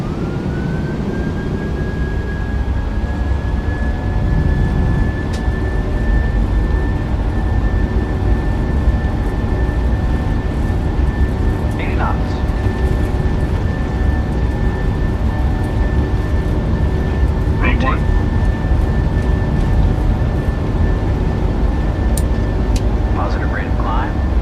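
Boeing 737-600 engines spool up to a steady, loud roar during the takeoff roll, a sustained whine holding throughout with brief cockpit voices and radio chatter over it.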